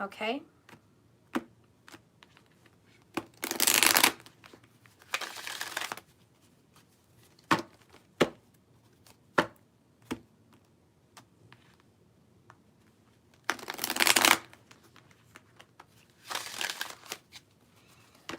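Oracle cards are shuffled in several bursts of crisp, riffling flutter, close and fairly loud, with a few sharp taps between them and a brief spoken word early on.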